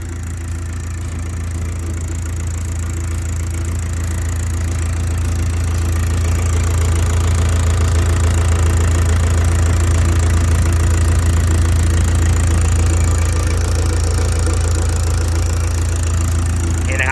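Steady, loud Caterpillar 6LK diesel engine idling in a 12-ton Caterpillar 313CSR excavator, with a deep low rumble and a slight rise in intensity, no other sounds standing out.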